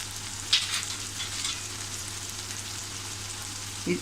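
Peas curry sizzles steadily in a pan after chili powder goes in, a close, even frying hiss with a couple of brief stirring knocks and no talking.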